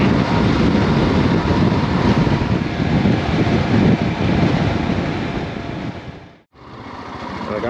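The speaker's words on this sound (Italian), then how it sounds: "c'è un vento pazzesco, non riesco neanche a parlare." Strong wind roars and buffets the microphone during a motorcycle ride in the Po Delta. It is loud and constant, fading briefly before a sudden dropout, then resumes.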